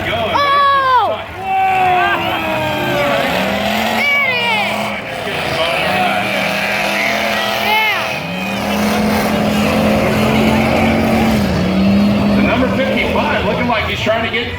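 Cars race and collide in a team demolition derby, with engines revving loudly and constantly under an excited announcer and crowd noise.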